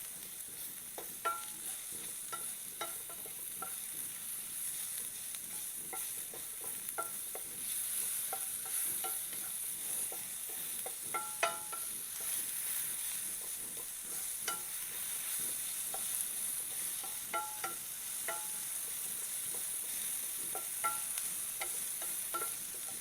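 Mushrooms sautéing in butter in a pan make a steady, even sizzle with soft crackles and frequent small pops and clicks. It runs continuously at a moderate level with no one speaking.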